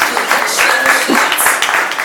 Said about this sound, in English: Please round of applause for everyone that's here.